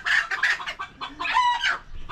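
Crossbred Rhode Island hen clucking in a run of close, fairly loud, broken calls with short pauses between them. No voices are heard.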